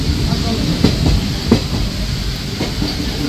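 Digha Special fare train from Kolkata running through heavy rain, a close steady rumble with a few sharp wheel knocks and a rushing hiss, brief and unbroken.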